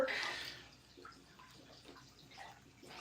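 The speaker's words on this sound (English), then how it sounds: "Filling it up with water." Water filling a nano aquarium tank makes a soft, faint pour and trickle with light splashing and occasional drips, steady and close, with no talk over it.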